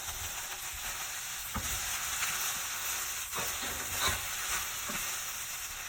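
Tomatoes hit a hot pan of chow mein stir fry with a steady, bright sizzle and hiss, punctuated by a few soft stirring knocks, close and continuous without talk.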